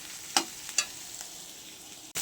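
Sliced bitter gourd fries gently over low heat in a kadai, giving a quiet, steady sizzle broken by a few sharp stirring clinks near the start and one at the end.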